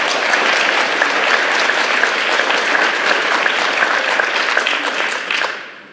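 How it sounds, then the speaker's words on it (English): Sustained applause from the audience at a 2018 Senate District 19 public forum, steady and full for about five seconds before tapering off at the end. "Let's give them a round of applause."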